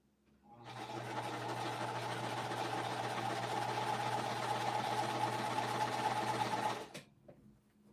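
A sewing machine with a larger needle stitching cotton fabric runs in one steady close mechanical whir for about six seconds, starting and stopping cleanly, with no voices.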